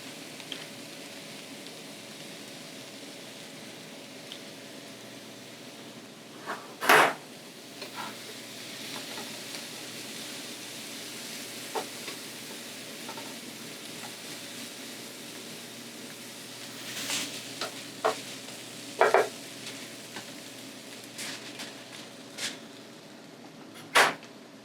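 Chunky onions stir-fried in a pan, a faint steady sizzle broken by a few sharp knocks and scrapes of a utensil stirring them.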